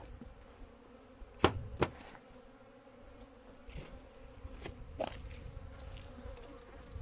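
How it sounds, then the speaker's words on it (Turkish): Honeybees buzz close around a beekeeper's face at a hive during winter feeding, a soft continuous drone with a few sharp, nearer passes early on and more fly-bys later. "Şöyle göstereyim yüzümde arılar geziyor."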